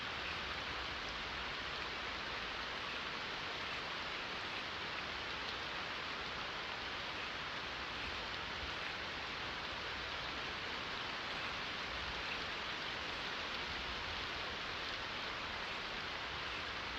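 Steady, loud rain pours down in the video game Project Zomboid, a constant hissing wash of drops with no letup and no voices.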